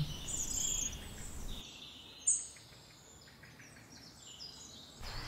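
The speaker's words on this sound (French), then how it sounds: "Toujours familier, le rouge-gorge avec mon chant mélodieux." A European robin sings in a valley setting, faint high thin phrases of warbling song rising briefly over quiet outdoor ambience, with a short bump of handling noise partway through.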